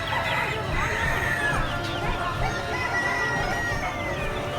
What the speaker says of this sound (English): So they're having chicken fights here,